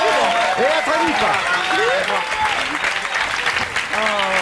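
A studio audience on the French TV game show 60 Secondes du Colisée (France 2, 2006) applauds loudly and steadily, with rising whistles and cheers cutting through the dense clapping.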